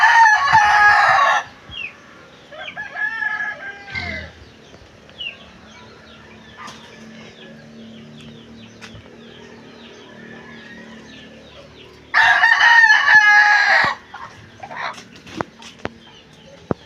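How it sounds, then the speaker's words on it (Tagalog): Chickens on a rural Philippine homestead, pecking at fruit laid out to dry, crow in two loud bursts at the start and again near the end, with scattered clucks and soft bird calls between them. "Tinutuka po ng manok ang ibang bunga."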